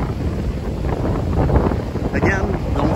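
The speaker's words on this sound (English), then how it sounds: "It is quite windy again." Gusty wind buffets the microphone with a low, rumbling roar throughout, loud and close, in the evening at the Los Corales area of Punta Cana, Dominican Republic.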